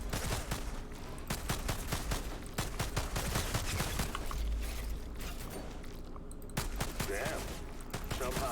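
Rapid pistol shots ring out in the shooter game Outriders, sharp repeated reports in quick bursts with mechanical clicks and reload sounds between them, a voice speaking over parts of the action.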